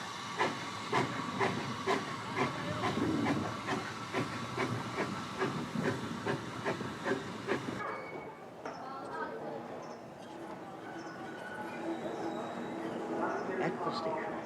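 The 1888 Crewe-built London North Western Railway coal tank steam locomotive hisses steadily, a broad continuous rush of steam with rhythmic pulses, while someone narrates over it.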